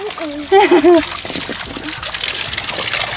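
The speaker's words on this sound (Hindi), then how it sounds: "तो गौमुख से निकल रहा है ये प्राकृतिक पानी" Natural spring water pours steadily from a cow-mouth spout in a continuous splashing rush, close and loud, while a child's high-pitched voice briefly speaks over it near the start.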